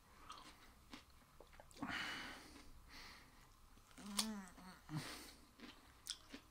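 Raw cucumber being bitten and chewed close up, with a crisp crunch near two seconds and wet, squishy mastication sounds later, quiet and without talk.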